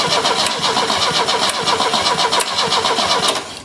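A 30-year-dormant Opel GT engine cranks and catches, running loudly and close with a steady, pulsing rhythm that eases off at the very end.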